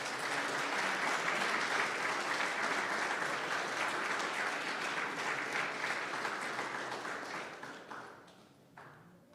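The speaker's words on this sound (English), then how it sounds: "Please give our completers another round of applause." Audience applause at a completion ceremony, a steady wash of clapping that gradually thins and fades near the end, leaving a few scattered claps.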